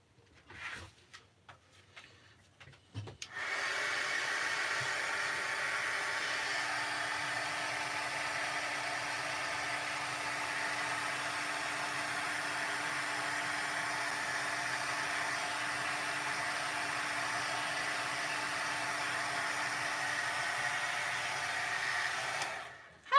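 An embossing heat tool blows on a card: after a few faint knocks and rustles it switches on and holds a steady, fan-like whirring hiss for about twenty seconds, moderate and close, with no talking.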